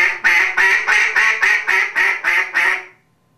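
A Duck Lander duck call blown in a basic quack sequence: nine rapid, evenly spaced nasal quacks, loud and close, ending abruptly, with no talking over them.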